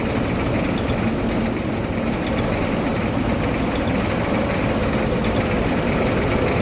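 Steady rumbling idle of an old tractor engine in Farming Simulator 22, a dense continuous drone with constant loudness throughout and no talking over it.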